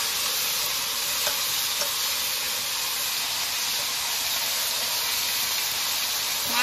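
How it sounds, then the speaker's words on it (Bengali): Marinated hilsa fish hits hot oil tempered with dried red chillies and whole cumin, giving a loud, continuous bright sizzle and hiss with a few small pops, close and steady throughout. "এবার মাখানো মাছটাকে ঢেলে দেবো।"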